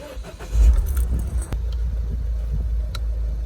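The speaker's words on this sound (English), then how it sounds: "I'll just turn on the engine now." A Citroen Berlingo engine cranks and catches with a low rumble, then settles into a steady idle; a brief click sounds partway through.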